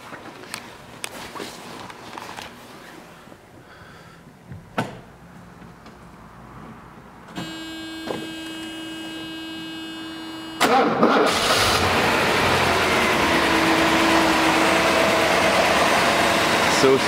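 A 1988 Mercedes-Benz 560SL with its 5.6 liter engine cranks with a whining starter, catches and settles into a loud, smooth, steady idle, with people talking quietly before it starts.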